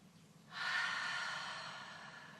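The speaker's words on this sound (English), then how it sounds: "I'm going to take 3 breaths, 1 through the nose and out through the mouth." One long, airy breath in through the nose and out through the mouth, a soft rushing exhale that fades slowly, close and quiet.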